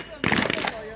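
A submachine gun fires a rapid burst of about half a second at a SWAT challenge competition range, loud and sharp, with commentary voices around it.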